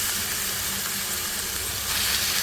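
Carrots, potatoes and onions fry in a hot pan with a constant soft sizzling hiss that swells slightly toward the end, heard alone without talking.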